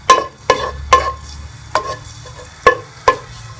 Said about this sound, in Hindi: लहसुन को 1 मिनट के लिए हम फ्राई कर लेंगे।